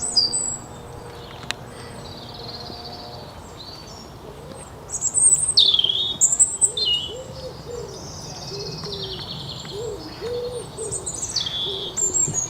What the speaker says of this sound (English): Plenty of robins along this walk.